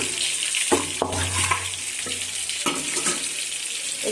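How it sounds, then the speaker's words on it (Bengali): Meat frying in a pan gives a soft sizzle with a few sharp scrapes and clinks of stirring, heard close and fairly quiet with no talk. "এদিকে মাংসটা ভাজা হচ্ছে"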